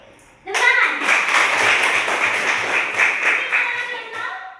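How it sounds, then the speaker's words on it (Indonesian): A group breaks into hand clapping after a brief quiet moment, with dense, steady applause continuing close by until the end. "Tepuk tangan."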